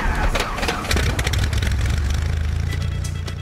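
A helicopter's piston engine cranks and catches, sputtering into a rough, lawnmower-like chatter that settles into a steady running drone, with a voice speaking briefly near the start.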